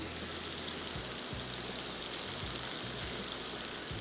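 Hot oil sizzling in a pan as yogurt is stirred into a frying mixture, a dense, steady crackling hiss with a few soft thumps from the pan, heard alone.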